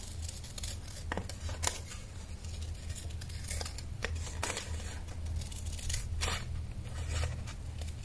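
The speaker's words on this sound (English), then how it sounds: "So I'm just going to trim this a little bit" Scissors trim paper for a junk journal in several crisp snips spread over a few seconds, each a short sharp cut, with light paper rustling between them close to the mic.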